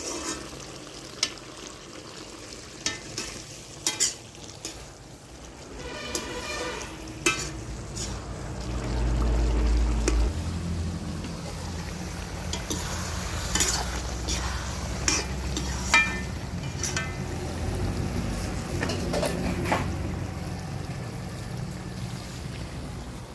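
Food frying in a pan as it is stirred, a steady sizzle broken by repeated sharp scrapes and clinks of the spatula, close and fairly quiet, with no talking.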